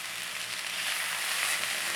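Minced mutton keema frying in a pan, a continuous close, bright sizzle that stays even and steady throughout.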